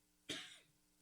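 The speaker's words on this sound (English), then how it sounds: "you're in the middle of a coughing fit" A single short, sharp cough, close and alone over a quiet background.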